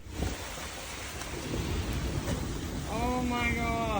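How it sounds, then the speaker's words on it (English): A thunderstorm breaks over a sailboat at sea, with rain hissing steadily, a low rumble of thunder underneath, and a faint tonal whine rising near the end. "We've just got a storm that's come out of nowhere."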